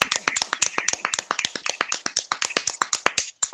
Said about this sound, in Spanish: Propongo un aplauso para Quita.